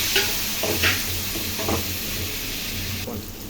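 Green chili and tomato sautéing in a pan give a steady sizzle, with a few short scraping stirs of a spoon against the pan rising above it.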